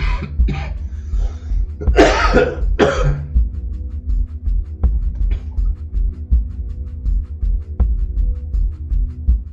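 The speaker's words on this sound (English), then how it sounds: "Little coughing fit." A short burst of harsh coughing near the start, two or three strong hacks close together, then quieter breathing and faint background hum.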